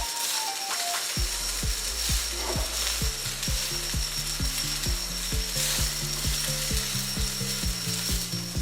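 Boiled rice mixed into frying beef keema in a pan, a continuous sizzle broken by rapid, rhythmic scraping strokes of a spoon, loud and close.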